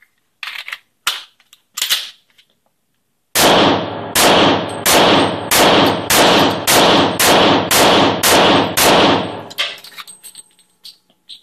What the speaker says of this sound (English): Eight rounds through the SIG, 20 through the Glock, two different magazines.